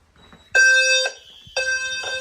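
A fire alarm sounder triggered by a smoke detector during a fog machine test blares in two loud, harmonically rich blasts, each about half a second long, with a short gap between them, close by and free of talk.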